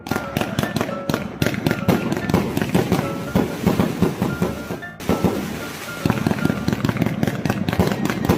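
Fireworks and firecrackers set off for the Tet celebration on a roadside, a rapid, irregular string of loud crackling bangs that keeps going with only brief pauses.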